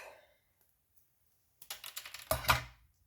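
A drinking straw is snipped while making a DIY hot-air-balloon decoration: a brief cluster of crisp clicking cuts in quick succession, close and fairly quiet, in an otherwise silent room.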